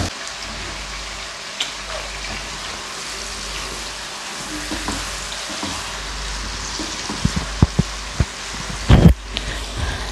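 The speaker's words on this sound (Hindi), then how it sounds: "चिकन को इतना फ्राई करना है कि इसका कलर चेंज हो जाए।" Chicken pieces frying in a pan give a steady low sizzle with occasional stirring knocks, and a louder clatter of a spoon or utensil comes near the end.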